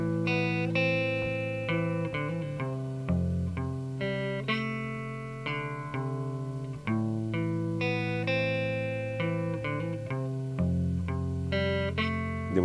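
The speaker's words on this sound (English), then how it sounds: "So put together with the verse riff, it'll sound like this." Electric guitar running through a verse riff a couple of times before switching to the turnaround riff, a continuous close, sustained melodic line with distortion-like tone and no voices.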